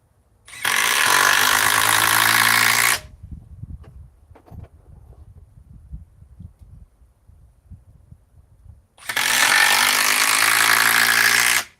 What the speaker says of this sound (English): Definitely hear the triple hammer in here going.